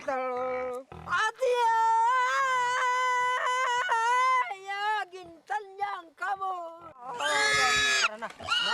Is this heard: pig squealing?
yes